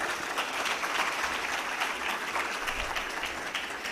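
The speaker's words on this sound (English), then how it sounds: "may we have a big round of applause for our entire panel" A room full of people applauding a panel at a business summit in Islamabad, sustained even clapping that fills the hall steadily from start to finish with no voices on top.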